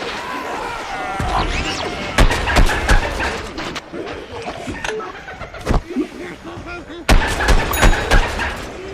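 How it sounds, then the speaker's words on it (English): Sticky explosive ball blasts in Plants vs. Zombies Garden Warfare, heard as several sharp, loud bangs among busy game effects and scattered impacts, with a cluster of bursts near the end. "scientist just threw his sticky explodey ball. It'll stick to the world, it'll also stick to enemies before exploding."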